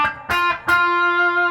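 An electric guitar, an Eastman T386, rings out through distortion in sustained, buzzy chords, struck three times and left to ring loudly.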